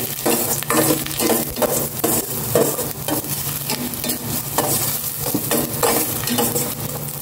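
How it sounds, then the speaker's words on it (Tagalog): Food stirred and sautéing in hot oil in a pan on a gas stove, a steady loud sizzle with repeated scraping stirs throughout. "Unahin ko itong igisa."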